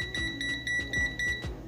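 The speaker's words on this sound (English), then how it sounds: "Multimeter beeped because it already hit 10 amps" A multimeter measuring about 10 amps from a 12V switching power supply emits a quiet, rapid series of short electronic beeps in a steady pulsing rhythm, with faint clicks underneath.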